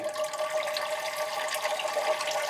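Water poured into the top of a plant pot to flush the soil, a steady rushing, splashing flow lasting the whole moment, fairly close and loud, with no voices.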